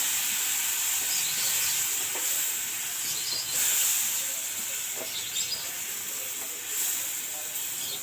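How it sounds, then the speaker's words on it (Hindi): White vinegar poured into a hot cooking pot sets off a continuous soft hiss and sizzle, fairly faint and steady, with a few small crackles and no voices. "तकरीबन मैंने आधा कप सिरके का इसमें डालूँगी"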